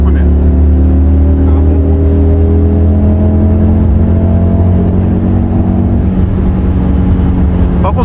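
A 2021 Audi RS Q3 2.5-litre engine rumbles loudly and steadily up close, a deep throbbing hum that holds its pitch, slightly muffled, with some voice mixed underneath.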